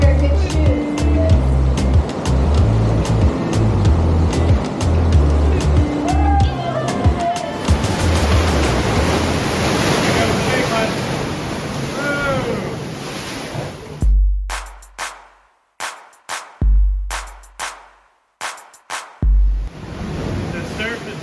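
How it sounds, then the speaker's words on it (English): Heavy Malibu surf rages into a sea cave at Leo Carrillo beach, a loud roaring wash of crashing water and spray that surges then drops into choppy bursts with wind buffeting the microphone, and people talk over it. "The surf is really raging and starting to come in the cave, so sorry for the loud noises"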